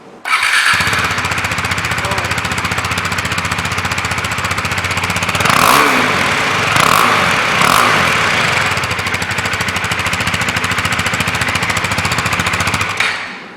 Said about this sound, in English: this is the exhaust note of the Duke 390.